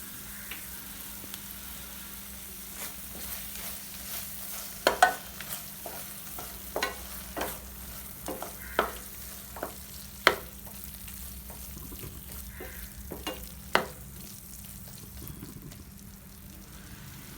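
Curry leaves fry in hot oil in a pan while tomato rice is being made: a steady, fairly quiet sizzle runs throughout, broken by scattered sharp spoon clicks and taps against the pan.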